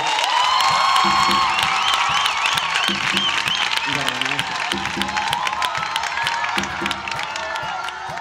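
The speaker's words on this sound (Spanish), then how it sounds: "Aplausos para todos." A crowd applauds and cheers over loud music, with rhythmic bass thumps and occasional whoops; the clapping stays steady and dense throughout.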